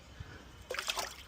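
Clean water splashed over a part of a VonHaus 800W HVLP paint sprayer during rinsing, a short close burst of splashing and trickling after a quiet start.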